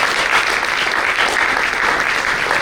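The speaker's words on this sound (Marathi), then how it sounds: "सर्वांनी टाळ्या वाजवून त्याचं कौतुक केलं" A crowd applauds the organizing team at the closing of a book lovers' convention in Karad: dense, steady clapping that fills the whole moment at an even level, with no voices over it.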